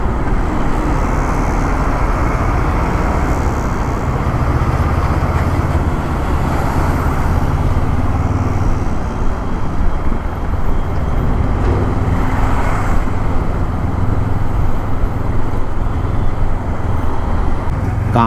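Dense, continuous road traffic roars along a busy multi-lane flyover in an Indian city where one side is blocked for roadworks, loud and close, with engines and tyre noise blending into a steady wash.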